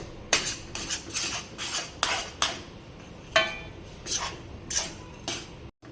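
Peanut powder being stirred into sugar syrup in a pan for mandvi pak, with spoon clinks and scrapes against the metal in an irregular series of sharp knocks, close and fairly clear.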